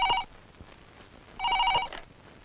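A telephone rings twice in a Kannada action film scene, each bright warbling ring burst lasting about a quarter second with a pause between, fairly close and clear over quiet room tone.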